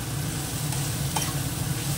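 Spices and peas frying in a pan while being stirred, a steady close sizzle running throughout with a few scraping stirs, no talk over it.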